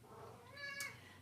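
A pet cat meows in a short, rising call that swells briefly near the end, fairly faint and alone with no talking.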